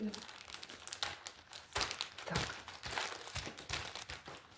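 Minced meat is packed into a zip-lock bag and the air is squeezed out, giving faint plastic crinkling and rustling, with someone speaking over it.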